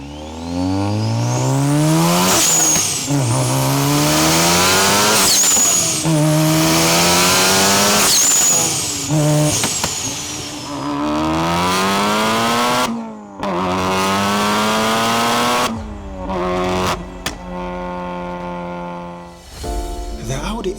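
A manual Audi S1 Sportback quattro, built to 650 hp and 1300 kg, revs hard while driving, its engine note climbing repeatedly through the gears with sharp lifts and brief pauses between pulls, loud and close.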